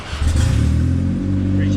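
Turbocharged 1.5 liter Honda Civic engine with an eBay turbo kit, tuned toward 202 horsepower, revving loud and close in a steady sustained roar after a brief lull, with voices heard over it.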